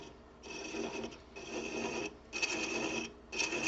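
Scraper tool cutting wood on a lathe, giving three or four close rasping passes separated by short pauses, moderately quiet, with no talking.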